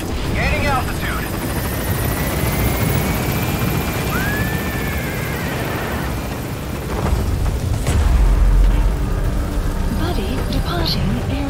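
A military helicopter lifts off and gains altitude in Metal Gear Solid V, its rotor and engine roaring continuously and loudly throughout, while radio-style voices speak over it.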